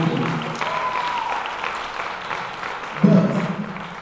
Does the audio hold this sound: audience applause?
yes